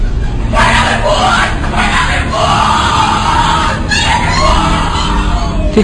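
Loud, rowdy group shouting and chanting at the Skull and Bones initiation ceremony, with voices swelling in waves over a constant crowd din.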